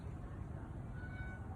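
Stray cat playing with a catnip fish toy gives a short, faint meow, close but quiet against a steady background rumble.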